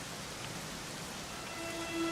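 Rain in the video game Dragon Quest 11S, an even hiss of falling rain throughout with a faint tonal game sound near the end.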